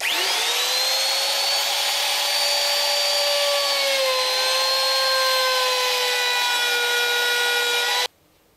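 A power tool cutting a groove into wooden boat planking: a loud, steady whine spins up and holds for several seconds before stopping abruptly, with no talking.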